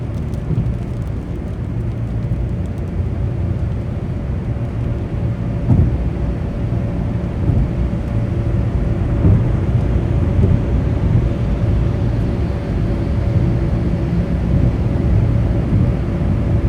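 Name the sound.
thunderstorm with rain heard while driving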